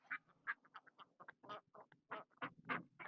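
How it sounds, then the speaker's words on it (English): Farm ducks quack in a quick, close run of short, repeated calls, loud and clear with no talk over them. "the ducks came up to say hello"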